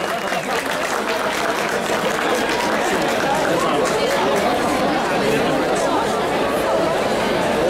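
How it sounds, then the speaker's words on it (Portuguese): A crowd at a cosplay awards ceremony at an anime convention claps and cheers loudly for the winners, a continuous wash of applause mixed with heavy chatter and voices throughout. "Palmas pra eles, galera!"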